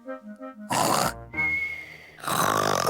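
A cartoon pig voice imitates loud snoring: a short series of snorting oinks, then long, rasping, nasal snore noises drawn out in several loud breaths, close and exaggerated.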